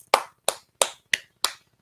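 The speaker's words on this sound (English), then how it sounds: "Give yourself a round of applause." Five sharp hand claps in an even rhythm, close and crisp, with short silences between them.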